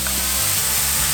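Onions and green pepper sautéing with mushrooms in a hot pan for omurice, giving a steady close sizzle with a soft bubbling crackle throughout, no voices.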